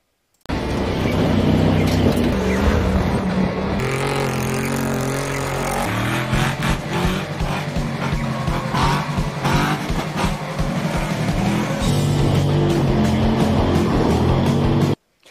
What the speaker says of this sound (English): this was on the pavement with a locked rear differential. Oh, really? It was the smokeless burnout